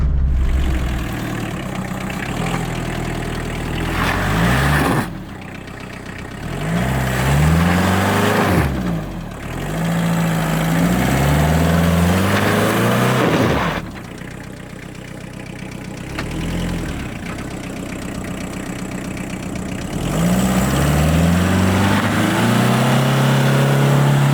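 Off-road car tackling its first obstacle in two-wheel drive, the engine loud and close as it revs up repeatedly in rising surges, falls back toward idle, and climbs again across several pushes.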